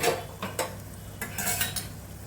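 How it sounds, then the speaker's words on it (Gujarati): Gram flour being stirred into spiced oil in a cooking pan: scraping spoon strokes and light metallic clinks over a soft sizzle, close and moderately loud. "ચણાનો લોટ એડ કરી દઈશું."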